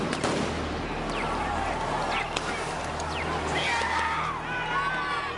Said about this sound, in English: Tear gas and flash grenades were used.